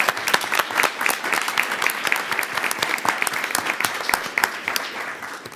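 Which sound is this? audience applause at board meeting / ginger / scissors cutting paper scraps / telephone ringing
audience applause at board meeting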